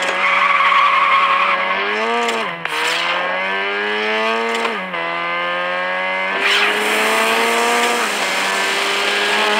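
Continuous loud tire squeal from a Subaru skidding in a racing video game, with the engine note dipping and rising through several slides, alone without talk.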